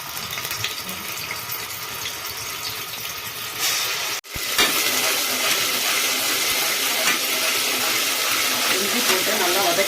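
Ginger paste sizzles in oil in a pressure cooker while mutton kurma is being made, a loud, steady hiss that breaks off briefly and then resumes.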